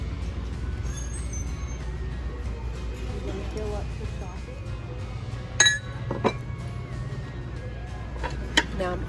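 Green glass urns, one with a large chip, clink together in a thrift store, with a few sharp glassy taps spaced a couple of seconds apart beneath ongoing talk.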